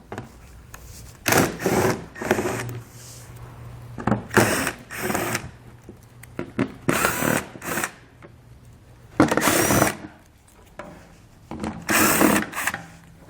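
A power driver backs out 5.5mm screws from the underside of a 2018 Ford Edge in several short whirring bursts separated by pauses and faint rattles, close and fairly loud, with no talking.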